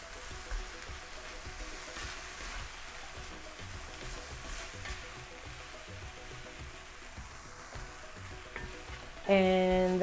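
Vegetables sauté in a pan with a steady, close sizzle and crackle, stirred now and then, and a louder clatter comes in near the end.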